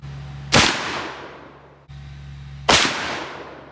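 Two loud rifle gunshots, about two seconds apart, from a large-bore .450 Bushmaster, .458 Socom or .50 Beowulf rifle fired while zeroing the sights, each a sharp blast with a long decaying tail over a steady low hum.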